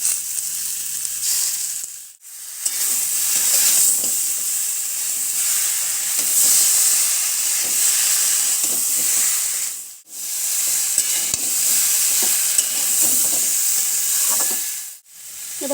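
Spice paste for a thin Bengali fish curry sizzles loudly in hot oil, a dense steady hiss broken by two brief pauses and light stirring scrapes, with no voices.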